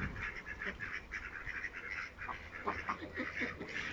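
Ducks in a village yard quack and honk in repeated clustered calls, moderately close and fairly faint, over a soft background of farmyard ambience.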